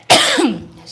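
A single sharp cough bursts out close to the mic, followed by a brief throaty rasp trailing off.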